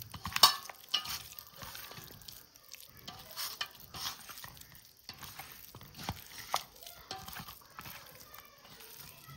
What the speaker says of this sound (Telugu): కొద్దిగా జింజర్ గార్లిక్ పేస్ట్ ముక్కలన్నిటికీ పట్టేలాగా కలుపుకుందాం